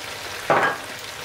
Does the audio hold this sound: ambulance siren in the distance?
no